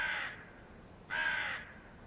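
A raven croaks twice in two harsh, drawn-out calls with a pause between, clear and fairly close against a quiet background.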